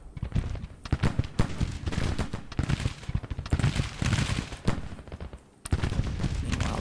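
Napoleon cannons and musketry fire continuously in a Civil War battle video game, with dense, overlapping booms and cracks, a brief lull, then a fresh burst of firing.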